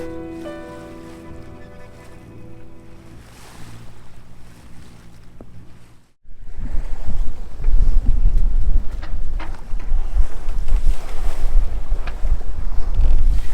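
Sailboat at sea, about 12 hours into a passage at dawn: a quieter tonal stretch, then loud gusty wind buffeting the microphone with rushing water and waves, close and continuous.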